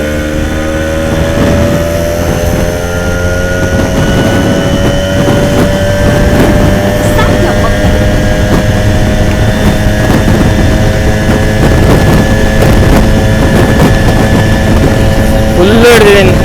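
A Suzuki Samurai runs flat out at top speed, a loud, steady engine drone with rising whine tones and heavy wind and road rumble, continuous and close from inside the vehicle.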